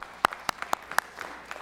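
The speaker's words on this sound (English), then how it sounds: "I'd ask you please stand up and applaud them" Scattered, sparse hand claps in a Georgia Senate chamber greeting Save Our Dads members, a handful of sharp individual claps spread across a second and a half rather than a full ovation.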